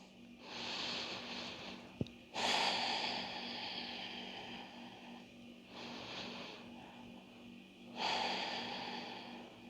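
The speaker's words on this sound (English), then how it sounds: "Breathing." Slow, audible breaths during a beginner yoga session, with about four long airy inhales and exhales spaced a few seconds apart, close to the microphone, plus one sharp click.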